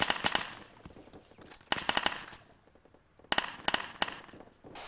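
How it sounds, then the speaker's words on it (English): Bursts of automatic gunfire from AI enemies in the Arma 3 video game crack out in quick rapid clusters, sharp and fairly distant, separated by short pauses. "They're shooting right now."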